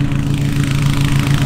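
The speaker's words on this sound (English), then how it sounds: "I know how to use my lawnmower better than Brett" A lawnmower engine runs steadily nearby, loud and droning with an even low hum and no change in pace, with no voices.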